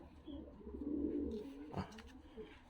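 Young racing pigeons in a loft give soft low cooing calls, faint and close, with a brief rustle of wings or movement partway through.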